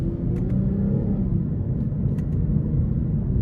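A 2023 Lexus IS 350 F Sport with a 3.5 engine driving in sport mode, heard from inside as a steady, loud low rumble with faint clicks, no speech.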